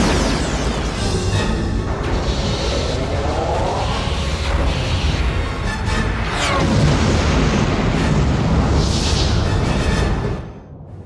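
A starship fires a photon torpedo in a sci-fi space battle, with a long roaring rush of energy and deep booming explosion layered with swelling effects, loud and sustained before cutting off abruptly.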